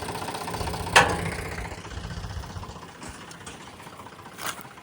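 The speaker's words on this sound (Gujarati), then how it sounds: "અને ટ્રેક્ટરથી આપણું થ્રેસર છે" A tractor-driven groundnut thresher engine runs steadily in the open, a continuous mid-pitched rumble with a sharp knock or clank near the start and a brief swell near the end.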